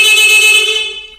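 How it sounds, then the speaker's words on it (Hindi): A Honda 70 motorcycle horn sounds once, a loud, close, bright steady tone held for about a second before fading out, with no other sound around it. "तो देखिए आप जरा सिर्फ हॉर्न चलेगा हमारा बगैर हेडलाइट के काट करके"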